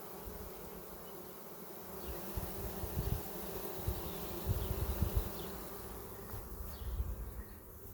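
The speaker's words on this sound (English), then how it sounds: "They're fanning really loud." Honey bees fan loudly inside a hive, a dense steady buzzing drone with low rumbling bumps and faint scattered sounds throughout.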